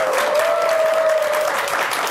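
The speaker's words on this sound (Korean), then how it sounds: "박수로 청하겠습니다." Studio audience of a Korean morning talk show claps steadily to welcome a guest singer, a thick, even wash of applause with a brief sustained tone running through the middle.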